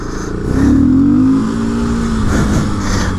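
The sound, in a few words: Honda XRE 300 motorcycle engine revving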